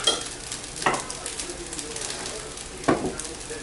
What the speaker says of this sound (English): the rice cooks, stirring occasionally